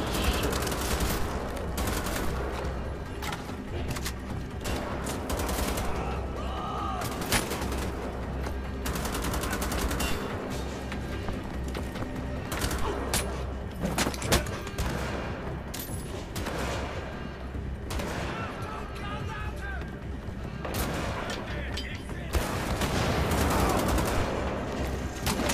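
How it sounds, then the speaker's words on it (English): Gunfire rattles almost nonstop while Nazis are shot in Wolfenstein: The Old Blood, with dense bursts of rapid shots and volleys layered over one another throughout, loud and unbroken, with no voices. "Shoot those Nazis, Blaskowitz."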